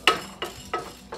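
Chana dal dry-roasted without oil and stirred in a pan, giving four evenly spaced scraping strokes of spoon and lentils against the metal, close and moderately loud.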